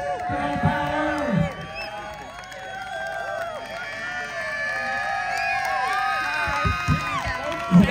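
A crowd cheers and whoops at a BMX jam, with shouts and high excited voices layered over one another. Nearby talk and a few louder yells stand out in the mix.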